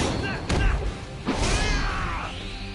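A shooting slash attack in Fairy Fencer F Advent Dark Force lands as two heavy thuds with whooshing swipes and ringing magical tones, loud and close.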